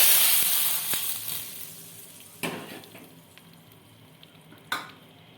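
Hot cumin tempering tipped into masoor dal sizzles loudly at first, then fades, with a few sharp clinks of a spoon or pan and brief renewed bursts of sizzling near the end.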